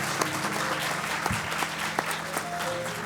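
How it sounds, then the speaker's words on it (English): Applause from a crowd, steady clapping throughout with a few sharper claps standing out, no voices over it. "Let's give her another round of applause"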